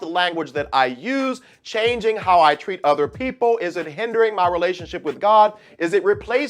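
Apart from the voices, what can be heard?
None of the usual background noises is heard.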